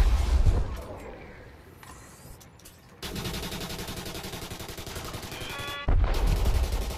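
A laser SMG in Elite Dangerous: Odyssey fires at Thargoid drones in rapid rattling bursts. A quieter lull comes first, then dense continuous fire, a short stop, and a loud burst resuming near the end.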